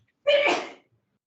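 A single sharp sneeze during a community board meeting, loud and close, lasting about half a second with no talk over it.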